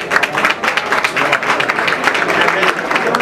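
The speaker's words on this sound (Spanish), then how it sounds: "Un aplauso, por favor." Audience applause at a polo season launch event, a steady dense wash of clapping with crowd murmur and some voices mixed in, continuous and fairly loud throughout.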